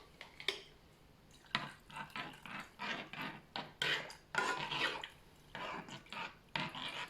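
Homemade toilet cleaning gel mixture stirred in a container, a series of soft irregular scraping and clinking strokes, close and quiet, with no talk.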